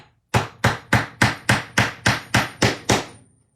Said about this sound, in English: I have to hammer it